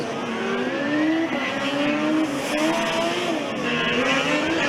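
A Formula Student race car from DHB Stuttgart races by on the endurance track, its loud steady high engine whine rising and falling in pitch as it passes close by.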